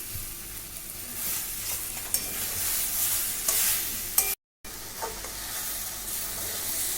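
Mixed vegetables with fish head, spices and tomato fry in a pan, making a constant crackling sizzle with occasional stirring scrapes and a brief dropout partway through.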